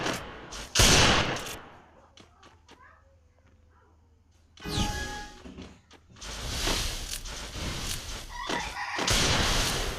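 Gunfire in the mobile shooter Free Fire, a custom match, comes as dense bursts of rapid shots, loud at the start and again through the second half, with a quieter stretch in between.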